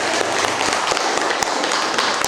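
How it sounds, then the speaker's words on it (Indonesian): Students in a classroom clap their hands together, a dense close patter of claps throughout, punctuated by several sharp, louder individual smacks. "Tapi tepuk tangan aja."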